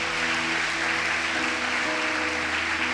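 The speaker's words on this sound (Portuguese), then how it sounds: "Pode dar uma salva de palmas para o Senhor?" A congregation gives sustained applause to the Lord during a church service, a dense, even wash of clapping with a faint tonal hum underneath.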